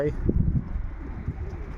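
Pigeons cooing close by in a low, rumbling murmur, released from their loft for a first flight, with soft wind noise underneath.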